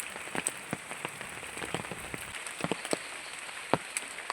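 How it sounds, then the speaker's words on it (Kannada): Steady rain falls on a walk to school, with a close, continuous hiss broken by frequent sharp drip and splash ticks. "ಮಳೆ ಬರ್ತಾಯಿದೆ."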